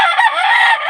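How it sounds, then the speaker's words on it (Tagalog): A double sweater gamefowl rooster crows in one loud, close, sustained call lasting about a second, with no speech. "ito yung double sweater natin na manok"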